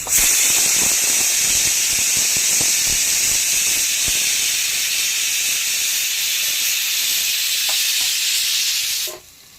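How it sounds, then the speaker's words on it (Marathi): Onion browns in a hot pan with capsicum added for pav bhaji, giving a loud, continuous sizzle and hiss up close with light stirring scrapes underneath, then cutting off abruptly at the end. "कांदा भाजतोय तोपर्यंत हे आपण सिमला मिरची टाकून घेऊया."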